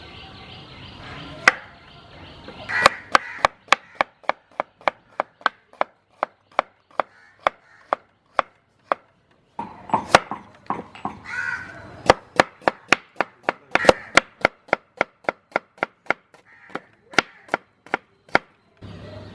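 Big onions chopped on a board with a knife for a goat balls gravy, a long run of sharp, close knife strikes that starts sparse, speeds into steady quick bursts and pauses briefly midway.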